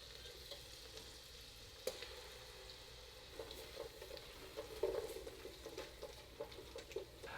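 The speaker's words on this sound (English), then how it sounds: "Now let this simmer for about 1 more minute" Minced garlic and tomato paste sizzle quietly in a pot for lobster bisque, a soft steady fry with light crackles and occasional stirring scrapes, no one speaking.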